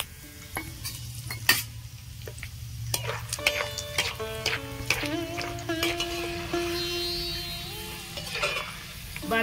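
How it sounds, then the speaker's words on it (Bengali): Peanuts fry in hot oil with a soft, continuous sizzle, punctuated by scraping stirs and light clinks of a metal utensil against the pan. "এবার আমি বাদামগুলো ভেজে নেব।"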